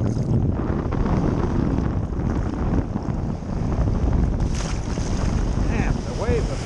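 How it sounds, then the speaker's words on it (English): Waves pound, crash and churn against an aluminum boat amid heavy wind buffeting the microphone, a loud, continuous rough-water roar. "Damn, the waves are pounding."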